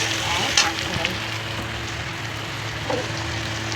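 Ginger-garlic paste and garlic frying in hot oil, a steady broadband sizzle running throughout at moderate level with a couple of brief stirring clinks, no voices.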